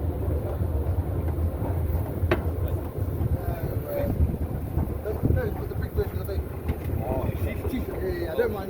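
Steady outdoor wind buffeting the microphone on the Las Vegas Strip, a continuous low rumble filling the whole stretch with faint distant city sound beneath.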